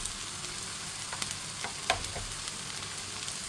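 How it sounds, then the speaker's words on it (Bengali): Rice being stirred as it fries in a pan with egg and tomato, a steady soft sizzle with faint scraping clicks scattered through, no talking. "ভাতটা দিয়ে এখন নেড়ে চেড়ে নিচ্ছি"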